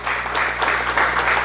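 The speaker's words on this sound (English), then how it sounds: "to a round of applause" A room full of people applauding steadily as the Artemis 1 Orion spacecraft is handed over after splashdown, a dense patter of clapping at moderate volume with a low hum underneath.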